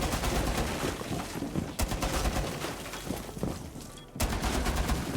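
Rapid, dense automatic gunfire from Tachanka's mounted gun in Rainbow Six Siege, a loud continuous fusillade with brief gaps near two seconds and four seconds.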